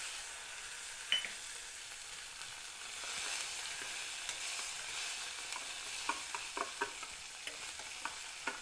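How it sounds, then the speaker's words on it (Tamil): Steady sizzling of snake gourd and tomatoes frying in a hot pan, with scattered clinks and scrapes of a spoon stirring, close by and moderately loud. "சேர்த்து நல்லா ஃப்ரை பண்ணிக்கோங்க"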